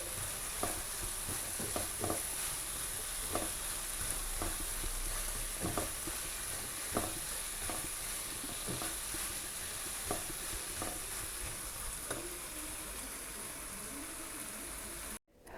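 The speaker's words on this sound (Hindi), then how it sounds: "अब मैं ज़रा इसको सिर्फ 5 मिनट ज़रा तेज़ आंच पे फ्राई कर लूँ" Minced meat (qeema) frying on high flame for spaghetti, a steady dense sizzle throughout with regular scraping stirs about every second, close and loud, no voices.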